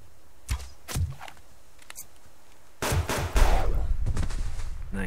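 Pistol shots in the survival game Subsistence: a few sharp, separate reports early on, then a busier, louder stretch of game sound toward the end, with no talking.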